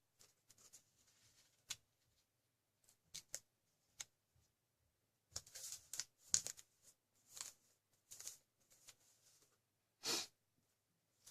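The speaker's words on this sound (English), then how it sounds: "I'm going to fold this edge here to my central crease." Paper is creased and folded by hand to form an origami bird base, giving soft crinkles, taps and sliding rustles in scattered bursts close by in an otherwise quiet room.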